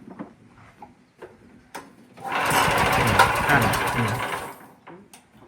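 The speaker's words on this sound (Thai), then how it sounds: "แกทำปั๊มลมภาคสนามแบบไม่หนักนะ" The small engine of a portable field air compressor on a mobile tire-repair vehicle starts and runs with a buzzing, rattling drone for about two seconds, then cuts out; quiet clicks and handling noises come before and after.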